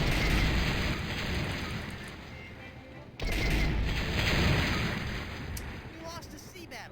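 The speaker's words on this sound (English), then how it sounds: "Why do my cannons sound like they're from Star Wars?" Cannons fire during a sea battle in the Monkey Island video game, producing booming, rumbling blasts that swell and fade, with a sharp break before another heavy barrage; a voice is faintly present.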